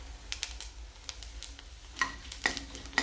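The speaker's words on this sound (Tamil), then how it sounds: "ஜீரகம் பொரிய ஆரம்பிச்சிருச்சு" Cumin seeds splutter in hot oil with a tamarind piece in the pan, sharp irregular pops and crackles over a faint steady sizzle, close and fairly lively.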